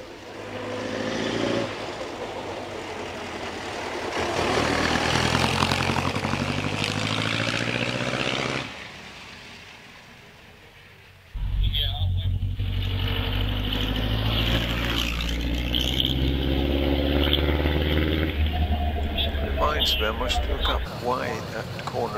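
A vintage sports car accelerates away from a corner on the Prescott hill climb, its engine a loud, sustained drone. A brief lull follows before another strong engine roar, with commentary talking over it.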